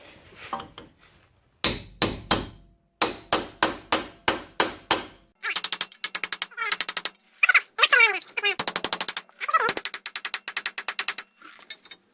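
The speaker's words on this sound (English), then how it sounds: "I think our best bet is a big ass hammer" Heavy metal hammer blows ring out against the axle of a 1999 Ram truck during a U-joint change in several bursts of rapid, evenly spaced strikes, loud and close, with short pauses between volleys.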